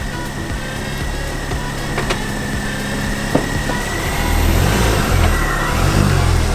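A Mk2 Ford Focus ST engine with a 2.75 inch Miltech exhaust runs steadily nearby at a loud, even hum, then rises to a somewhat fuller, louder note near the end.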